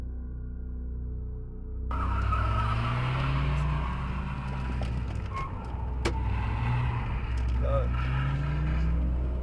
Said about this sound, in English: The sudden and unexpected encounter forces the two men to take a quick U-turn to lose the guy